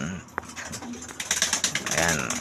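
Pigeons cooing near a bird caretaker, soft repeated coos under a person talking, with some clatter in the background.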